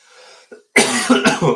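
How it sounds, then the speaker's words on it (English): A person coughs hard and close, one brief cough then a rapid burst of several harsh, rasping coughs. "Sorry, I'm coughing like mad."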